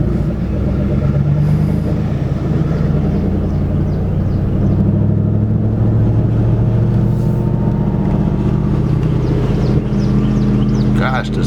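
A car with a manual transmission drives along with a loud, steady low engine rumble and road noise throughout, and no distinct gear shifts stand out.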